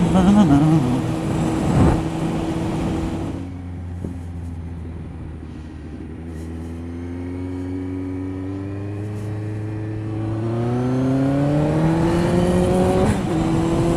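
A Kawasaki Z motorcycle accelerates to overtake on a road: a loud engine drone drops back, then climbs in pitch as the rider opens the throttle and revs rise, with wind rush and no talk.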